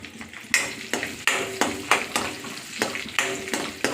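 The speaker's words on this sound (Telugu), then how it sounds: "ఇవి కొద్దిగా బ్రౌన్ కలర్ వచ్చే వరకు వేయించుకోవాలి" Green chillies and red onions frying in a pan, a steady sizzle broken by repeated stirring scrapes at a quick, uneven rhythm, close and clear.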